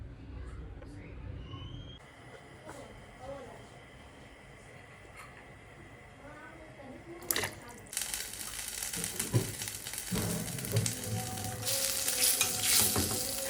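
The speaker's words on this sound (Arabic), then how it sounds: "حطيت معلقة زبدة على زيت" A spoonful of butter hits hot oil in a pan for a beef-trotter tagine. A quiet stretch gives way to a loud, crackling sizzle that builds and persists while a voice speaks.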